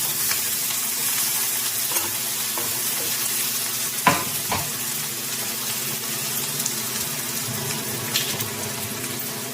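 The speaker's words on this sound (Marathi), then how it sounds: "छान फ्राय होऊ द्यायचं आहे. छान मऊ होईपर्यंत परतून घ्यायचं आहे" Onion and spices sauté in oil for a dal tadka, with a soft continuous sizzle and a few clattering stirs against the pan, one louder knock near the middle, no voices.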